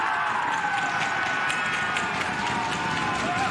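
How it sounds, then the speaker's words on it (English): A large crowd at a professional rugby match between the Toronto Arrows and New England Free Jacks roars in a steady, sustained cheer filling the stadium, broad and continuous throughout. "Wait for this cheer, everyone."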